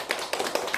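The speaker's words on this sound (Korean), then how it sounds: "우리 박수로 환영합시다." A church congregation at a Sunday worship service claps in welcome, giving a brief run of quick, steady hand claps close by.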